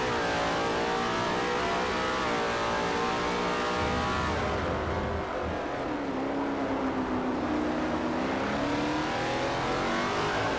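A Formula Forza R1 2013 race car engine in the Forza video game at the Motegi GP circuit screams on throttle, loud and continuous, with the pitch climbing and shifting as it accelerates.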